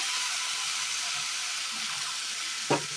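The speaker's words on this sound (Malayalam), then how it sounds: "ഇനി ഇതിലേക്ക് ഒരല്പം വെള്ളം ഒഴിച്ചു കൊടുക്കാം." Hot water pours into a pan of meat curry with a steady, bright rushing hiss from start to finish. One soft knock of the pan sounds near the end.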